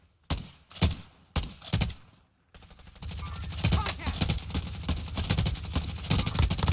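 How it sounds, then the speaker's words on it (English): Gunfire in the video game Warzone: a few sharp separate shots first, then a dense sustained burst of rapid fire and battle noise that stays loud until the end. "People are shooting at him."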